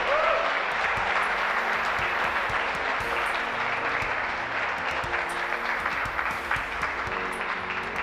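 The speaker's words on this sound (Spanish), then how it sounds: "En el nombre de Jesús, aplauda al Señor fuerte." A church congregation claps and applauds loudly and continuously as a dense, sustained wash of hand claps in a large room, with faint voices mixed in.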